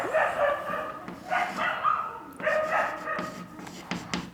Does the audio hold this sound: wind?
no